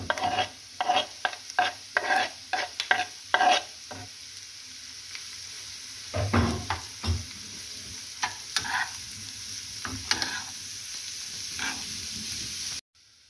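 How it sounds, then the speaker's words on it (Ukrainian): Onion and carrot frying in oil for a honey mushroom soup, with bursts of stirring scrapes in the first few seconds and again around the middle over a steady close sizzle, ending abruptly. "Піджарили цибульку, додаємо морквочки і легенько робимо колір і все"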